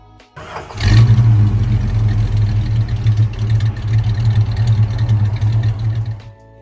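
A Ford 302 Windsor V8 in a muscle car cranks briefly, fires up, and settles into a loud, close, throbbing rumble with slight rises in revs before cutting off abruptly.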